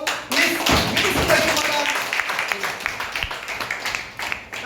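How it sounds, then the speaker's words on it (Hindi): An audience applauds to welcome performers at a children's play performance in Bandhugaon block, Koraput, Odisha, a steady crowd clapping heard through a loud public-address hall, with a voice speaking over it. "सेनिपे अनुरोध करूछु समस्त जोरसोर ताली सहित स्वागत करा जाऊ।"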